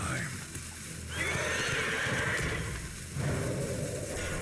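A horse whinnies loudly twice in quick succession in the Hearthstone video game, two close, shrill neighs over busy game ambience.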